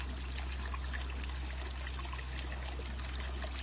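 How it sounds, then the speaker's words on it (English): Fresh water pours steadily into a garden pond to flush out stirred-up muck, a continuous close splashing stream with a low pump hum beneath it and no voices. "now I'll get some fresh water in here and try and overflow some of that filth that I stirred up"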